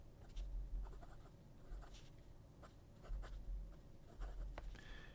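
A Century 3776 fountain pen with a fine nib scratches across paper in short, quiet strokes with brief pauses between them, heard close up with nothing else going on.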